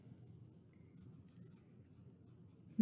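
A pen scratches steadily across paper while a verse reference is handwritten for a Sunday school craft, faint and close, ending in a small bump.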